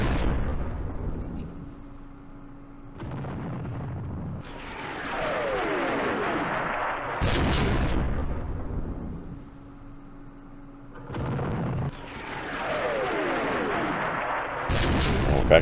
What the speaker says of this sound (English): Okay, here comes the artillery.